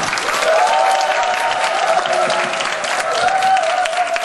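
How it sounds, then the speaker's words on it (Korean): An audience at a lecture breaks into sustained applause with cheering as a speaker is welcomed, giving a dense, even wash of clapping that lasts the whole moment. "여러분들 우리의 같은 박수와 함성으로 환영해 주시면 감사하겠습니다"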